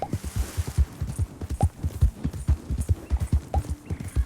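Horse hooves clip-clop in the Tomb Raider video game, a steady rhythmic series of close, hollow knocks at a walking pace, heard alone without any talk.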